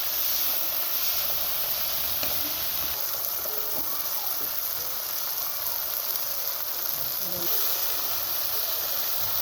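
Chopped tomatoes and prawns frying over medium heat in a pan, a steady soft hiss of sizzling that runs evenly throughout with faint stirring touches.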